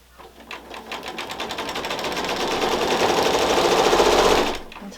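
A sewing machine stitches quarter-inch seams joining quilt panel blocks, its rapid needle chatter running steadily for about four seconds, building slightly louder, then stopping abruptly near the end.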